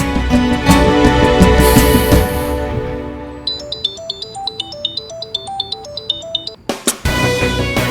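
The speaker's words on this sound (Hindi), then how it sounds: "सुमो फिर फोन नहीं उठा रही है" A melodic ringtone plays a repeating chime pattern, loud and close, after a burst of busy background noise at the start.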